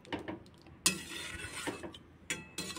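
A spoon scrapes and clinks around a pan of Bengali-style tangra fish curry after the gas is turned off and roasted cumin powder is sprinkled in, a few brief, quiet stirring strokes close up with gaps between.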